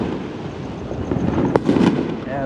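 Fourth of July fireworks on Beach Blvd in Orange County, a steady crackling wash of distant bursts with a sharper pop and a fizzing flurry near the end.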